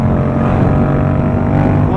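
Motorcycle engine revving and pulling on a road while low on fuel, a loud, close, steady droning growl with strong low harmonics that rises slightly as it accelerates.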